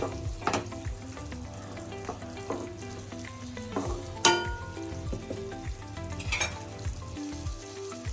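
Mandakki seasoning with turmeric sizzles and fries in a pan in a North Karnataka kitchen. A steady, quiet crackle is broken by a few sharper clatters as a spoon stirs it, with no talk.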